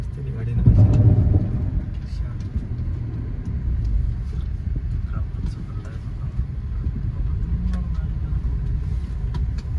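A car creeps slowly over rough, thorny ground on a pilgrimage route, its low engine rumble steady and close throughout with bumps and scraping underneath.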